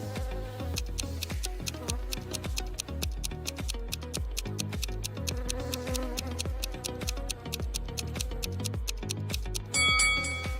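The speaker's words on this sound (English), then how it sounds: "Betty stepped on a wasp nest. Wasps were everywhere." A swarm of angry wasps stirred up from a trampled nest in an animated riddle cartoon makes continuous insect buzzing over a steady ticking musical beat, running for about ten seconds without speech.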